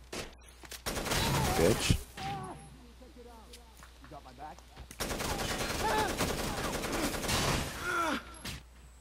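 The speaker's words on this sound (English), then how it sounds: "I'm fucking shooting him in the head and he doesn't die." Rapid bursts of gunfire sound during a firefight in Rainbow Six Vegas 2. Two dense volleys are separated by a quieter stretch, with a player's voice talking over the shooting.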